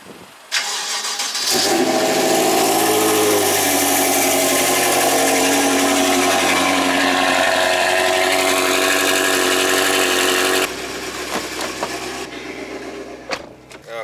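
A BMW car engine cranks briefly and catches, then settles into a loud, steady idle with a rich low hum for about nine seconds before dropping to a quieter idle with a few small clicks and knocks.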